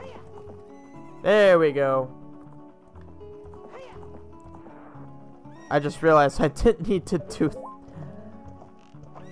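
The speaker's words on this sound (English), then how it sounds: "Get off horse. I'm just waiting to get off the horse." A horse in the video game The Legend of Zelda: Ocarina of Time gives two loud, shrill whinnies a few seconds apart, with faint hoof clops and someone talking between them.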